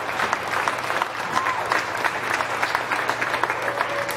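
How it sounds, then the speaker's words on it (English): Crowd applause for kids showing lambs in a sheep show scramble class at a county fair, continuous dense clapping for several seconds with crowd murmur beneath. "Let's give these kids a big round of applause."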